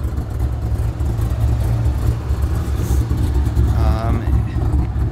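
A 2000 Corvette with a big cam, long tube headers and an aftermarket custom exhaust runs steadily up close, its deep lumpy rumble continuous throughout with a brief rev near the end, under someone talking.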